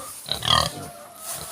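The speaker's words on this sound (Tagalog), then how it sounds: "Yung baboy. 3 baboy. Mga inahing baboy." Pigs on a small Filipino farm, sows with their young, give a burst of snuffling grunts that swells and fades over about a second, fairly close, with quieter farm ambience around them.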